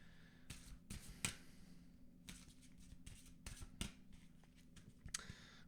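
A deck of cards being shuffled by hand close up. Quiet, short riffling bursts repeat at irregular intervals, with soft pauses in between.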